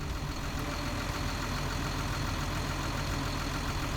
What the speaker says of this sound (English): The system will automatically energize pump control units throughout the machine to attempt to build pressure